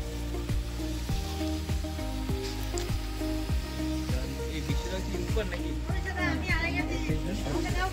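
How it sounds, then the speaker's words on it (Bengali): Spices and fried rice ingredients frying in a pan at an outdoor picnic, a steady loud sizzle with repeated stirring scrapes, while people talk over it and music plays in the background. "এই মশলাটা মানে যে ফ্রাইড রাইসের জন্য যে জিনিসপত্রগুলো লাগবে সেগুলোকে একটু ভেজে নেওয়া হচ্ছে"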